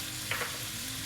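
Spices sizzling and frying in hot oil as they go into a lamb achar gosht curry, a steady soft hiss with a faint stirring scrape.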